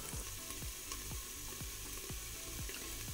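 Garlic and meatball base for spaghetti sizzling steadily in a hot pan, a continuous close fry with repeated soft stirring scrapes spaced about every half second.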